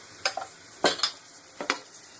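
Pancake batter hits a hot non-stick pan in a few bright splashy bursts, followed by a soft hiss and light clinks from the pan, nearby and without talk.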